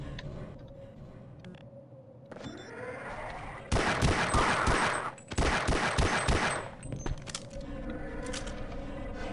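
Pistol fire in the original Half-Life: a run of sharp, closely spaced shots bursts out loud for about three seconds, pauses briefly, then another rapid volley follows, with quieter ambient hum before and after.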